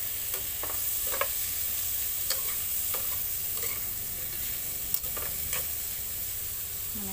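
Chicken gizzards fry in a pan with a splash of vinegar, giving a soft, steady sizzle. Scraping, clinking stirs recur throughout, close and unaccompanied by talk.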